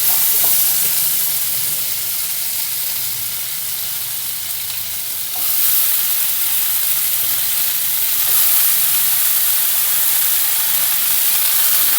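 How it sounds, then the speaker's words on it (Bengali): Shredded cabbage hits a pan of frying potatoes, setting off a steady loud sizzle with bursts of hissing as the vegetables are stirred, no voices. "এবার আলুগুলো একটু ভেজে নিয়েছি, ওর মধ্যে আমি বাঁধাকপি কুচানোগুলো দিয়ে দেবো"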